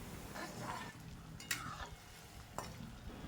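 Nimki, a crisp flaky fried snack, frying in hot oil, giving a steady soft sizzle with a few sharper clinks and scrapes near the middle and end.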